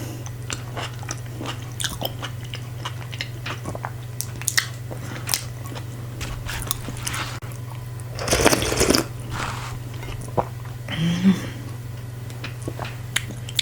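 Close, crunchy biting and wet chewing of fufu with assorted meats, spicy, in short irregular bursts with a louder crunch midway, over a steady low hum with no talking.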